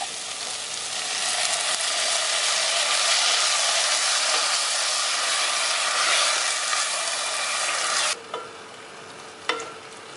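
A cup of water poured into hot prawn biryani masala for Kerala-style prawns biryani sets off a loud, sustained hiss and sizzle, which cuts off abruptly after about eight seconds, leaving a few faint clinks.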